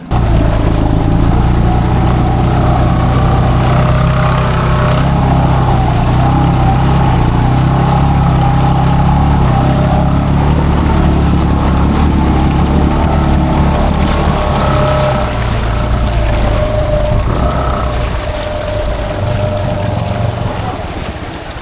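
A 2015-16 Honda Pioneer 500 UTV with a snorkel mod idles and churns through neck-deep water, its engine a steady loud low drone with sloshing and wind noise throughout, no voices.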